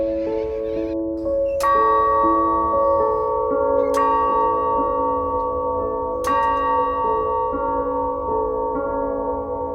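A school bell in step-worn corridors and halls strikes three clear, resonant tones about two seconds apart, each leaving a long ringing hum under a sustained organ-like drone.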